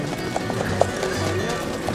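Hooves of an adult mare clop steadily on the arena ground at a horse show, a faint, regular beat under crowd murmur and background chatter.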